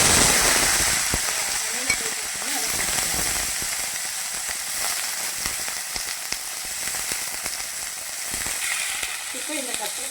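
Mustard seeds, urad dal, cumin and curry leaves sizzle and crackle in hot oil, with a dense, loud, steady frying hiss and scattered pops from start to finish, and occasional faint stirring.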